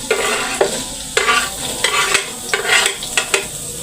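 Shallots, garlic and chili spice paste are stir-fried in a pan, making a steady close sizzle. A utensil scrapes and clinks against the pan in irregular strokes.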